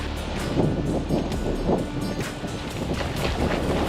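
Wind buffets the microphone steadily on a lakeside carp fishery, a loud continuous rumble with gusty swells and no speech.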